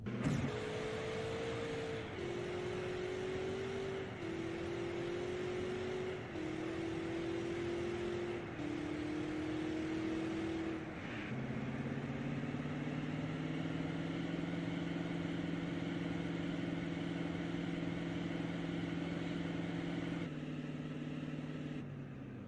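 Rolls-Royce car in GTA San Andreas accelerating along a Las Venturas highway, its engine drone stepping up in pitch through several gear shifts, then holding a steady high-revving tone; loud, continuous and close, with no talking.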